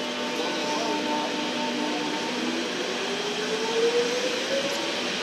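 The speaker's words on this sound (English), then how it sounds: "the Glen Waverley train's now leaving" A Glen Waverley line metro train pulls away from Holmesglen station, a steady broadband rumble and hiss of the departing train with a faint rising tone near the end, continuous and fairly close with no talking.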